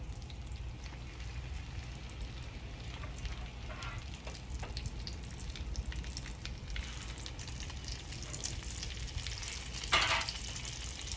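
Continuous crackling sizzle of French toast frying in a hot pan, dense and steady with scattered sharper pops throughout.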